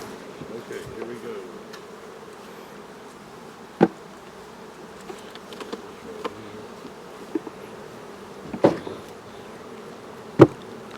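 Honeybees buzz in a steady, dense drone around a hive during a sourwood nectar flow, with a few louder bumps and knocks over the humming swarm.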